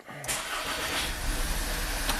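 A Volkswagen turbocharged GDI car engine, running rough and burning oil, starts after a brief quiet moment, cranking and catching at once, then settles into a loud, steady idle nearby.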